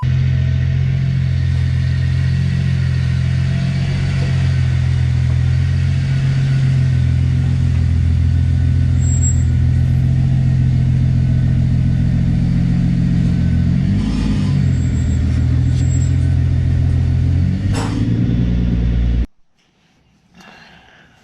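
Toyota Supra driving and revving hard, a loud, steady engine roar with rising rev swells and a couple of sharper surges, close and continuous before cutting off abruptly near the end.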